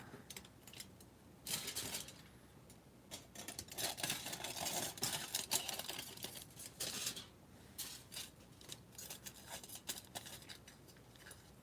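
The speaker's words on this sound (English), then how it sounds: "So this is gonna get noisy because we got tinfoil." Crisp, crinkling rustles and snips as shears cut through tin foil, a busy run of sharp crackles close by with no talking.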